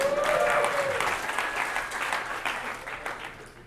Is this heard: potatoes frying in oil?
no